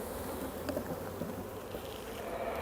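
Honeybees shaken off a hive frame buzz faintly and steadily close by, a low, diffuse insect hum with small scattered taps.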